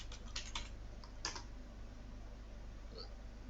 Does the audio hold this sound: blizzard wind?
no